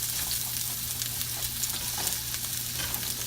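One small onion broken up into a hot pan, frying with a steady, dense sizzle that stays close and even throughout, with no voices.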